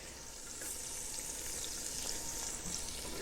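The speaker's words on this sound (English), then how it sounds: "I'm going to add my 4 cloves of garlic into the Dutch oven." Four cloves of very finely minced garlic sizzle in a Dutch oven with the heat turned off, a soft, steady crackling hiss that stays faint and even, with no talking.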